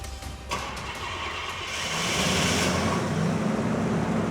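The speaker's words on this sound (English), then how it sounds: "Well, we've got a working starter mechanism." A car engine cranks over via a remote-triggered starter and catches, rising into a steady, loud running roar heard alone at close range.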